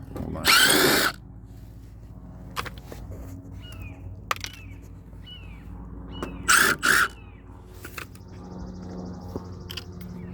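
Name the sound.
power drill with square bit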